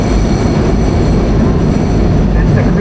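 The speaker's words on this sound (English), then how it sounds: "That's the green line of the subway." A Boston Green Line subway train rumbles past nearby, a steady low roar with rail noise filling the whole stretch and no voices over it.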